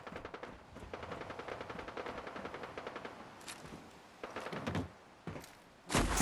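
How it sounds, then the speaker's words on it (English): Bursts of rapid gunfire and single heavy shots ring out in Fallout 4's Far Harbor expansion, coming in uneven clusters with short pauses and a loud final blast, with no talk over them. "I hear more gunfire."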